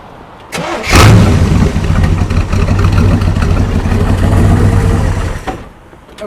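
A Corvette engine cranks and catches, then settles into a steady, loud idle close by before cutting off near the end.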